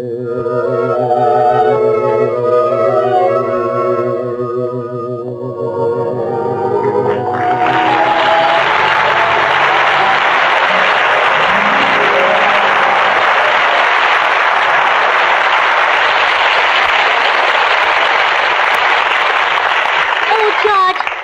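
Music plays briefly, then a large audience breaks into loud, sustained applause that fills the rest of the clip without fading.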